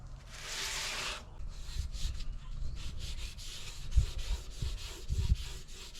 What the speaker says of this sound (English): you're gonna have to sand it a little bit more